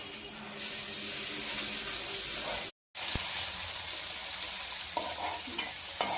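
Tomatoes frying with ginger garlic paste in a pan for mutton curry, a steady close sizzle with a brief break partway and a few scraping stirs near the end, with no voices.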